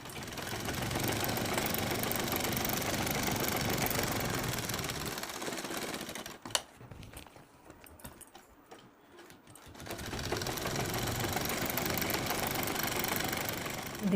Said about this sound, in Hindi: इस पे हम सिलाई चलाएंगे। तो सिलाई हमें इसी तरह ऐसे लगाते जाना है।